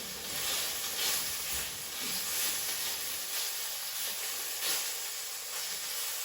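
Broccoli beef stir-fries in a wok with a steady, moderately quiet hiss and sizzle, its texture shifting a little as the food is moved around.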